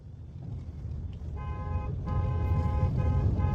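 A car horn honks loudly in several sustained blasts with short breaks, over a steady low rumble of engine and traffic.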